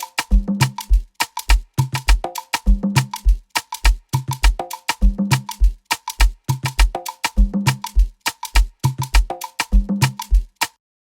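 Afrobeat drum loop with kick drum and an added conga, built in Logic Pro X: dense syncopated groove of crisp hits, booming kicks and tuned hand-drum tones repeating in a steady cycle, loud and upfront with no voices.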